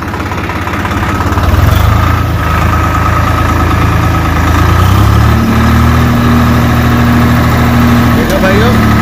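A Swraj 744 FE tractor engine runs steadily at 1500 rpm driving its multi-speed PTO, a loud continuous low rumble with a rising tone partway through, while someone talks over it.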